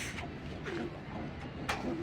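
A Giribaz pigeon gives soft, low coos a couple of times, close by, over a faint background hum.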